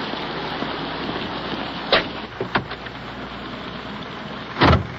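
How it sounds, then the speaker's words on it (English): Steady rain hisses down on a wet, slushy street at night, a constant broadband wash with a few brief louder splashes or bumps standing out. "out once again in the rain. Wet and slushy out here."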